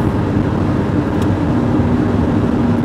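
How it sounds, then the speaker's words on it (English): A car driving, heard from inside the cabin: a steady low engine and road rumble with constant loudness, unbroken and without talk. "Hopefully you can hear me over the car okay."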